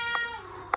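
A cat kept indoors during heavy rain gives two short meows, the second slightly louder, over a faint steady background hum.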